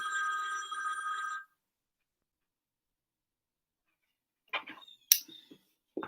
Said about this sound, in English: I don't know why this phone does that.